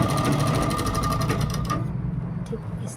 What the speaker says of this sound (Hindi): ऐसे यहाँ पर हमें खींचना नहीं है और इस पर सिलाई लगाते जाएंगे।